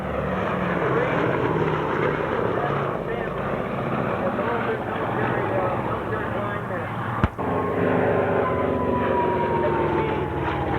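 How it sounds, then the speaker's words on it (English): A Harpoon bomber makes a low pass at an air show with its engines droning loudly and continuously, while an announcer talks over it. "Harpoon bomber now making its pass doing a wing waggle and salute to us here at Aviation Heritage"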